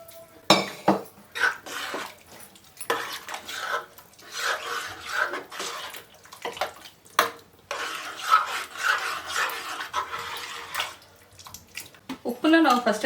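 Water is added to a pressure cooker of green gram and spinach dal, with uneven splashing, scraping and metal clatter. A person talks over it throughout.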